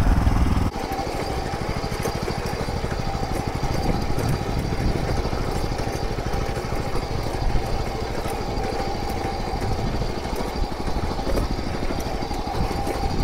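Dfarm power weeder engine running in first gear, a loud, steady, close mid-pitched putter that holds throughout with no talk.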